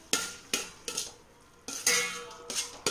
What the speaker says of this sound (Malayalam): നന്നായിട്ടൊന്ന് വഴറ്റി കൊടുക്കണം.